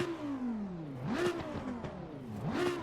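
GT4 race car engine in Assetto Corsa Competizione revving up sharply twice, each rise followed by a falling pitch through the gears, a close, moderately loud rasping note with no talking.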